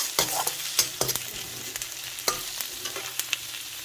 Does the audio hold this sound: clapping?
no